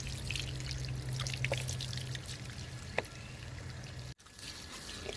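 Water pours steadily while freshly harvested turmeric roots are washed, a soft, continuous splashing trickle at moderate distance that briefly cuts out near the end.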